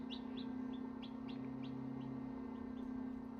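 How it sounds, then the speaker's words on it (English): Day-old chicks peep inside an incubator, a series of short, high chirps repeated about twice a second over a steady humming fan. "I've been hearing this chirping all morning"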